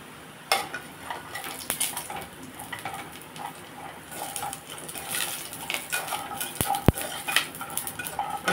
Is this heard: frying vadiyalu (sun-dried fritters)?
yes